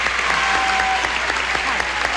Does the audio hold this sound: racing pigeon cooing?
no